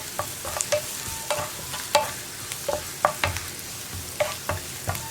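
Onions for a coconut chammanthi being stirred and sautéed in a pan, with a steady low sizzle punctuated by a dozen or so sharp scraping and clinking strokes of the spoon against the pan, close and clear with no talking.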